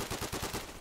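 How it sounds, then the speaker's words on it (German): A short rapid burst of gunfire in the video game Day of Infamy, several sharp cracks in quick succession lasting under a second, loud and close with no voices. "Ein Webley Revolver. Hat 287 Joule."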